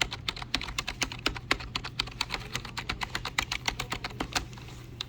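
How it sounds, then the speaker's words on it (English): Quiet, rapid typing on a Logitech MK850 wireless keyboard, with soft, evenly spaced key clicks in a steady rhythm close by. "keyboard sound"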